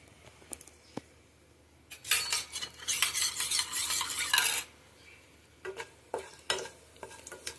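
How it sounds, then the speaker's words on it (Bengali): Whole cloves, cinnamon and cardamom sizzle and crackle in hot oil in a pan while a utensil stirs and scrapes for a few seconds, with a loud burst of frying in the middle and scattered clinks before and after. "এটা 5-10 সেকেন্ড একটু নাড়াচাড়া করে নেব।"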